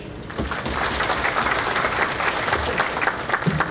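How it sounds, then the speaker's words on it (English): Sustained audience applause at a business conference inaugural session, steady dense clapping from a crowd throughout, fairly loud and close, with no speech over it. "I think it deserves another big round of applause"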